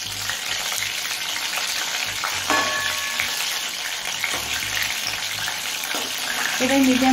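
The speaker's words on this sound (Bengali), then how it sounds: "এবার মিডিয়াম ফ্লেমে গোল্ডেন ব্রাউন করে ভেজে নেব।" Amudi fish fry golden brown in oil in a kadai over a medium gas flame, giving a loud, constant sizzle up close with a few brief utensil knocks and scrapes.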